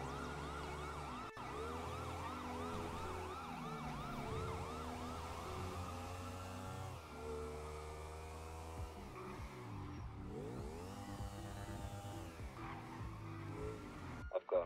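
A police car siren in the GTA 5 roleplay video game wails in long rising and falling sweeps, loud and steady for the whole stretch, over a constant engine rumble.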